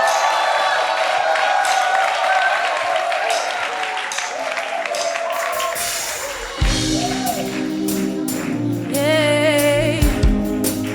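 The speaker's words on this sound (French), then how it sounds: "Un tonnerre d'applaudissements pour" A concert crowd at an outdoor show applauds and cheers for the singer, dense continuous clapping and shouts that carry on as loud music with a strong bass line kicks in midway.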